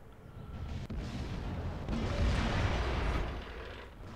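Dull, rumbling artillery fire in the World of Tanks video game, a low continuous boom that swells toward the middle and lingers as a heavy, noisy wash with no voices.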